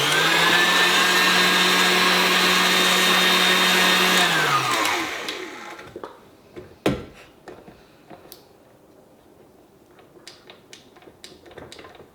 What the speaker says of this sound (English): Now we are going to mix these until combined.